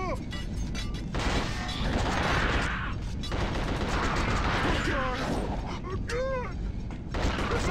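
Gunfire and chaotic combat noise in the horror video game The Suffering as hellhounds attack, with bursts of shots, crashes and mechanical clatter layered over game ambience.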